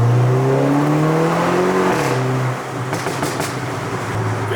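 A Brabus A-Class fitted with a custom Star Dynamics exhaust revs hard on a London high street, its loud rising tone climbing and then dropping off before sharp pops and crackles burst out near the microphone.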